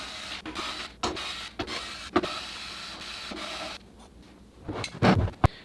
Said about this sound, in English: we're gonna take off now 4 short screws and 2 long ones in